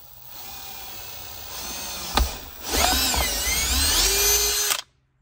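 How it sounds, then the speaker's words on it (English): A power drill bores a 3/16 pilot hole into interior trim of a 2015-2019 Duramax truck, a loud rising whine that holds steady for a couple of seconds and then stops. "And let's drill that out."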